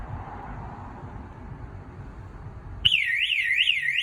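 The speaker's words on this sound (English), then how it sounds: "It also has a panic button on this alarm." A shrill electronic alarm from an Affinity 550 alarm panel's panic button suddenly starts after a low hum, wailing in a fast rising-and-falling siren pattern, loud and close.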